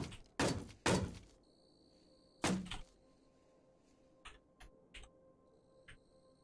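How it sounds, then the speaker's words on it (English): Zombies in Cataclysm DDA banging on things: a few heavy, loud thuds in quick succession, then a pause, another hard bang and several lighter knocks fading out, with no voices. "the zombies started banging on things"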